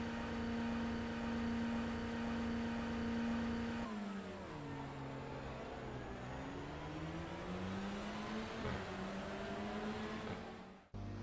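A Honda Civic TCR race car in the iRacing sim holds a steady high rev at the start line, then launches as the clutch drops: the engine note sags and climbs through gear changes before cutting off abruptly at the end.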